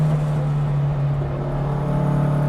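A vintage Porsche 356 race car drones steadily on a race track, a loud continuous low engine hum held at an even pitch, close by, with no talking.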